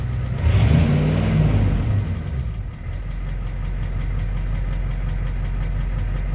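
The engine of a 1990 Ford F-250 pickup runs at a steady, low idle after a brief louder rev at the start, a continuous rumble heard close up with no talking.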